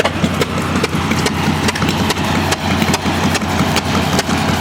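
Hit and miss engines run at an outdoor engine show, giving a steady chugging with regular sharp firing beats over a low rumble, close and fairly loud, with no talk.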